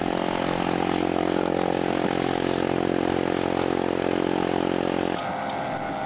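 Propeller plane engine droning loud and steady at close range, carrying parachutists for a formation exit, with the pitch and level dropping sharply near the end.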